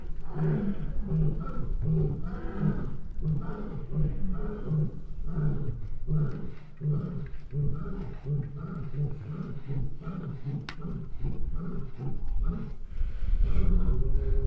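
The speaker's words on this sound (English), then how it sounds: "I can hear Leo and Monza to my left singing some lion songs in celebration of triple match." A lion and a lioness roar together across a zoo ridge, a long rhythmic series of deep, pulsing grunt-roars that carries loudly and steadily throughout, with a voice faintly mixed in at times.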